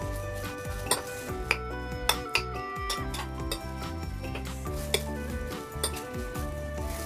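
Sliced beef seasoned with salt, sugar and ground pepper is stirred in a bowl, with soft wet mixing and a few sharp clinks of utensil against the bowl, close and without talk.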